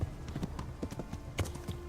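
A horse gallops in the medieval game Kingdom Come: Deliverance, its hooves beating out a quick, steady clip-clop rhythm at a moderate level over a low background hum.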